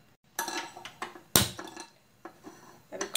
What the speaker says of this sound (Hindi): अभी कढ़ाई गरम होने के लिए रख दिया।